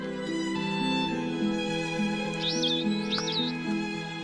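Nectar-drinking parrots chatter with bright, squeaky calls, with two distinct upward-swooping chirps midway, all over a constant low tonal drone that runs through the whole stretch.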